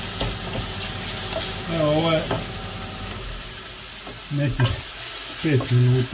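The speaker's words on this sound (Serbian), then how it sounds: "sad pečurke počinju da se prže" Mushrooms fry and sizzle in a pan for a sauce, a steady close crackle stirred now and then, while someone speaks briefly over it.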